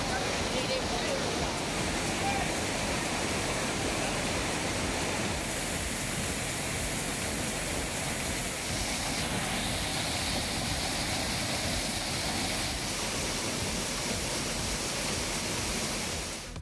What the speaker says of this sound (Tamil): திருப்பரப்பு அருவியில் வெள்ளம் ஆர்ப்பரித்து கொட்டுவதால் அங்கும் சுற்றுலா பயணிகள் குளிக்க தடை விதிக்கப்பட்டுள்ளது